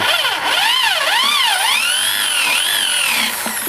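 A power drill whines steadily and loudly for almost four seconds, its pitch sweeping up and down as it bores holes through the bars of a handmade wooden dove cage, with no voices.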